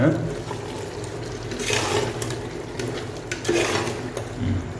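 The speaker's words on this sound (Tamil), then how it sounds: "இப்போ தயிர் போட்டு மிக்ஸ் பண்ணிகிட்டு இருக்கோம்" Curd being stirred into masala for a village-style beef biryani, with a steady scraping stir and soft sizzle close by, plus occasional clinks of a utensil against the pot.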